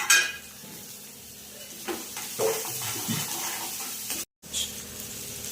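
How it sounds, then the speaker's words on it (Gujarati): Finely chopped onion sautés with asafoetida in hot oil, a soft sizzle under scattered stirring clatters and pan knocks, with one brief dropout near the end. "આપણે પહેલાં નાખશું હિંગ, અને આપણે જે આ ઝીણી ડુંગળી સમારી હતી એને આપણે સરસ મજાની સાંતળી લઈશું"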